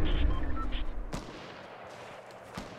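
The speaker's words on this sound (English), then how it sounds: "There's a lot of shots going on." Gunfire in a video game battle: a few loud, close shots crack near the start and one more sharp report follows after a quieter stretch of distant rumble.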